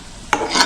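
Egg and chilies fry in a pan, giving a brief sizzle broken by two quick scraping strokes of a spatula, close and quiet.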